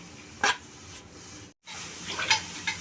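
Grated carrots for carrot halva sizzle and get stirred in a pan over a medium flame, with soft frying hiss broken by a few sharp scrapes and clinks of the spoon against the pan.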